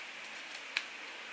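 Scissors snip through the lace of a full lace wig, a few soft cuts followed by one sharp, close snip that stands alone in a quiet room.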